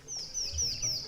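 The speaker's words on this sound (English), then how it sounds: "Can you hear that sound behind me? All the animals, crickets and birds." Faint, distant forest birdsong repeats in short descending chirps over a soft background hum of an African forest.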